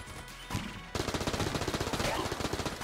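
Rapid shots from the Corsair gun in Enter the Gungeon ring out as a fast, evenly spaced burst of loud, punchy game gunfire after a short quieter stretch with a few single shots.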